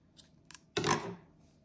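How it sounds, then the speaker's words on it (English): Scissors snip through crochet yarn: two faint quick clicks of the blades opening, then one louder crisp cut that rasps and fades, close and alone. "you're going to cut your yarn"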